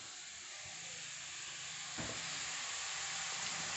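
Sliced onion and green chili frying in a pan for beetroot mezhukkupuratti, a steady loud sizzle close up with a brief stirring scrape midway, no voices.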